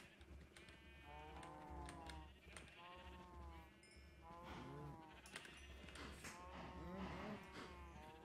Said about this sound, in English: Come here, cows!